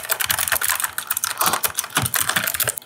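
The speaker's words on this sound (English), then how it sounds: "the typing ASMR sounds is so cute" Continuous fast typing on a rose gold computer keyboard styled like a typewriter, close and crisp with dense clicky keystrokes throughout, no voices.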